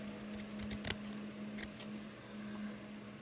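Scissors snip loose fuzzy fibers off a handmade shabby chic birdhouse Christmas ornament: a couple of short, quiet cuts over a faint steady hum, with no talking.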